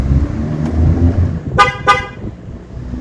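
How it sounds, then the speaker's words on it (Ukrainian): Two quick horn beeps from a car as the central locking closes, loud and close by, over a low background rumble. "Один раз натиснула замочок, вона просигналила два рази, але замки центральні закрилися."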